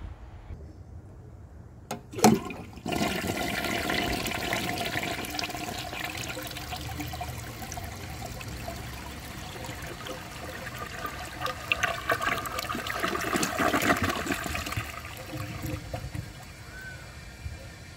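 A 1959 Standard Compact toilet with its original flush valve flushes after a sharp click of the handle, then a loud steady rush of swirling water that keeps going for about fifteen seconds, close by with no talking.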